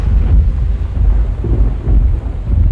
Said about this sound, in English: Okay, that was just thunder.